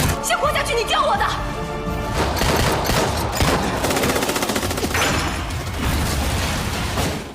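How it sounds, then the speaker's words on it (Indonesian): Loud, dense bursts of gunfire crackle almost without pause, rapid automatic shots layered with heavy booms, amid music and scattered voices. "mendengar suara tembakan di markas"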